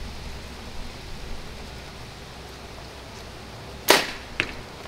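A single arrow released from a newly bought hunting bow during target practice, heard as a sharp brief whoosh and thwack near the end, followed by a smaller knock, over faint outdoor background hiss.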